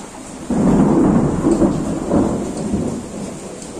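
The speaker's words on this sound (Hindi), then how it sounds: "बहुत तेज बारिश हो रही है" Heavy monsoon rain pours down during a thunderstorm, with a loud, close rumble of thunder rolling in after a brief quieter moment and then fading slowly under the steady hiss of the downpour. No one speaks.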